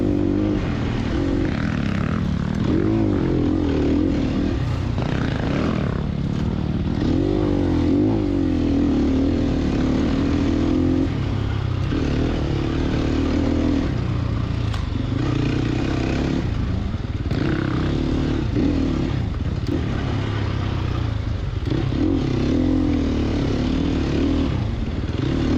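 A Sherco 300 SEF dirt bike engine works hard off-road, riding through rough trail country in a steady near drone that rises and falls with the throttle, with chain and suspension clatter and no talking.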